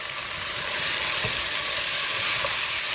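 Spices, red chilli, salt and turmeric sizzle and fry steadily in a pan for a chicken qorma, a continuous close hiss with occasional stirring and no talk.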